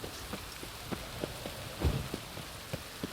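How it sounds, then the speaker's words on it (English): Rain falling in The Witcher 3 video game, a soft steady patter with scattered louder drops and one heavier thud, quiet and continuous. "No use doing any work in this rain."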